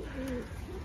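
Giribaz pigeons giving a single brief, soft, low coo nearby, with no talking.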